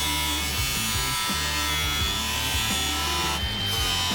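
A power tool trims metal off a Jeep B-pillar with a steady, loud, droning whir and a grinding buzz that runs nonstop and close, with no talking over it.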